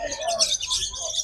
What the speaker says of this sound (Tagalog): Unahin na natin itong mga ibon.